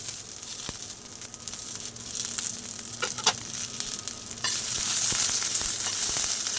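Green chillies and garlic for Maharashtrian thecha fry in hot oil with a steady crackling sizzle and occasional stirring scrapes, growing louder and more intense toward the end, with no voices.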